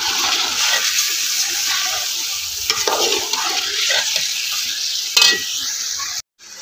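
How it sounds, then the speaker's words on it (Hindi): Chicken fries in a hot pan with a steady, loud broadband sizzle that carries throughout, broken only by a few brief stirring scrapes near the end. "चिकन फ्राई हो रहा वा"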